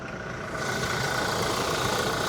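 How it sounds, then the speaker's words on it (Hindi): A 2400 cc Toyota Innova Crysta diesel engine, running very hot and visibly shaking, idles with a steady close clatter under an open bonnet, growing slightly louder after a moment. "जो इनका 2400 सीसी का डीजल इंजन है"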